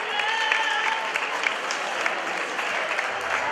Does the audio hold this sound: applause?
yes